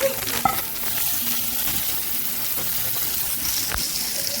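Chicken pieces fry in a pan with a steady, close sizzle and hiss, broken by a few soft clinks and stirring sounds, with no one talking.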